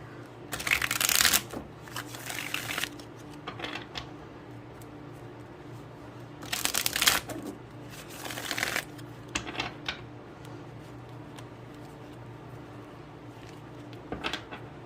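Tarot cards are shuffled in several close, crisp riffling bursts, with quieter pauses between them and a final short shuffle.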